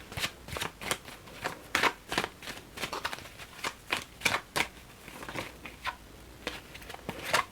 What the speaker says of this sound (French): ils insistent à vouloir tirer plusieurs cartes